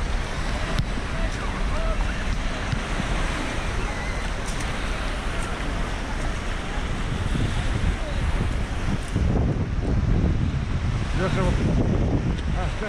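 Spillway gates of a hydroelectric dam on the Yenisei River discharge about 7,500 cubic meters of water per second, producing a loud, steady, wind-buffeted roar that continues unbroken with voices faintly underneath.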